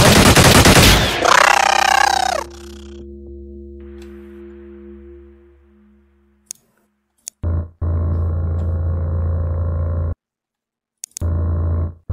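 Rapid gunfire bursts from soldiers in the Xenonauts strategy game: a loud opening blast fading into a ringing tail, then two separate sustained bursts of automatic fire later on, with quiet gaps between.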